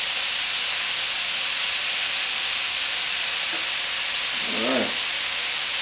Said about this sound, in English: You want them to sear. You don't want them to steam.